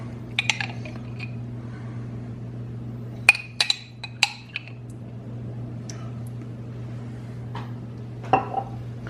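A spoon clinks and scrapes against a dish while spreading raspberry jam into Bakewell tart pastry. The sharp metallic taps come in scattered clusters over a steady low kitchen hum.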